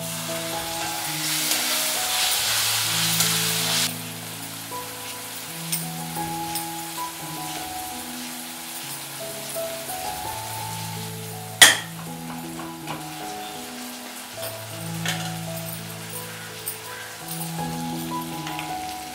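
Tomatoes and onions sautéing in a pan for a Tamil pori kuzhambu, a steady soft sizzle with occasional stirring scrapes and one sharp clink, over quiet background music.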